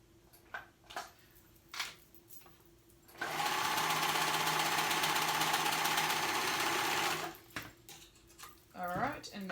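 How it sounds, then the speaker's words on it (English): A sewing machine stitches the shoulder seams of a curved-hem pocket tank top in one loud, steady run of about four seconds, with someone talking briefly before and after and soft handling clicks around it. "So now we're gonna go ahead and sew those shoulders together."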